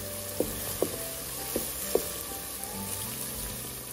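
Green peas fry in a rice cooker with a steady, soft sizzle, broken by a few sharp clicks as a spoon stirs them, about one scrape every half second to second.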